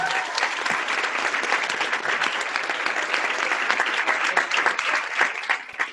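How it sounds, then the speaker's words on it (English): Loud, sustained applause from a conference audience after a Q&A session with NFL player Kelvin Beachum, dense clapping filling the room for about six seconds with no talk over it. "give a round of applause for Kelvin"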